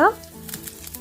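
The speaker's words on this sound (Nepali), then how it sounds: "यो तातिसकेपछि लसुनको माथिको स्टिमको पार्टलाई यसरी गोल्डन ब्राउन नहुन्जेल सानो आँचमा भुट्दैछु" Garlic stems fry on low heat in hot oil until golden for a spicy radish and tomato pickle, giving a soft, steady sizzle that stays faint and close after a brief voiced sound at the start.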